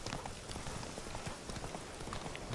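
Horse hooves galloping in The Witcher 3, a rapid, even clip-clop rhythm running throughout at moderate level, with no talking.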